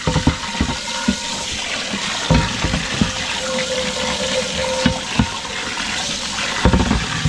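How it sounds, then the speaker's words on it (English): Continuous running and sloshing water with clanking knocks as pans are rinsed and scrubbed in a fishing boat's live well in the Okefenokee Swamp, loud and close throughout. "I'm going to wash these pans in a live well."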